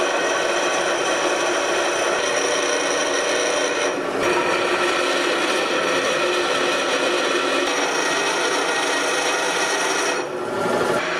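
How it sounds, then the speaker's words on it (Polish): Tools being ground at a neighbouring workstation in a winter railway repair workshop for narrow-gauge wagons, a steady, loud, continuous rasping grind that runs nearly the whole time with a brief dip near the end. "Na sąsiednim stanowisku szlifuje się narzędzia."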